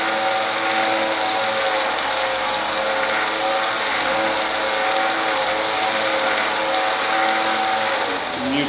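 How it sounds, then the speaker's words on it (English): A steady, loud machine whine of a spinning, grit-clogged sanding wheel with a gritty, scraping hiss as crepe rubber rubs against it to clean it, continuous throughout. "what this does is this cleans your sanding wheel"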